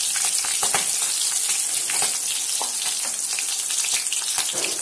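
Green chillies sizzle and fry in hot oil with cumin and mustard seeds for an upma, a steady close crackle with sharp pops from the seeds throughout, and no talking.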